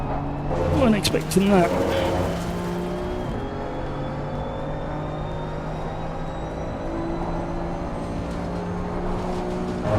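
A GT race car in Assetto Corsa Competizione slides through a four-wheel drift, its engine droning steadily with tyre squeal and whining tones, while someone talks over it near the start.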